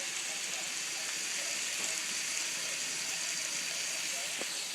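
Asparagus, red pepper and onions sizzle in a hot pan, a steady broadband hiss lasting throughout with a few faint clicks and stirring knocks, fairly quiet and close.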